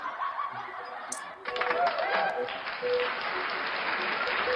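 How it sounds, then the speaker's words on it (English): Recorded crowd applause played over a radio broadcast: thin, band-limited clapping with some laughter that starts abruptly after about a second and continues steadily to the end. "Start clapping."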